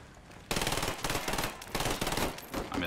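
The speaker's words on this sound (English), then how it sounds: "I missed all my shots." Rapid automatic gunfire in the video game Ghost Recon Wildlands starts abruptly after a quiet half second, then continues in dense, loud bursts with short gaps.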